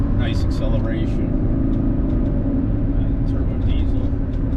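A 1985 Mercedes-Benz 300SD turbodiesel accelerates, its heavy low engine drone rumbling steadily from inside the cabin while someone talks over it.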